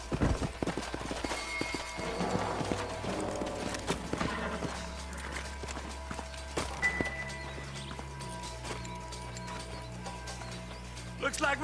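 Horses in the video game Red Dead Redemption walk with soft, irregular hoof clops and tack rattles amid game ambience, with characters talking and a horse whinnying briefly.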